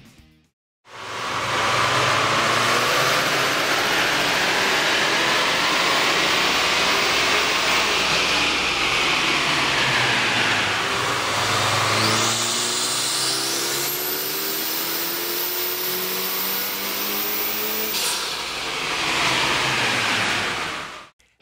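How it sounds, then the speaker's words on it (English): A 2.0L four-cylinder engine in a 2011–2013 Kia Optima or Hyundai Sonata fitted with a K&N air intake, revving on a dyno: a loud, steady roar climbs in pitch, falls back, then climbs again before cutting off. "With the air intake installed, we ran the vehicle on the dyno to test the sound comparison versus the stock intake."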